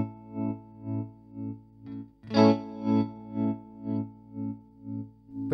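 Electric guitar run through a MOOER tremolo pedal set to high depth, its sustained chords pulsing steadily in volume about twice per second, with a fresh strum midway and no talk.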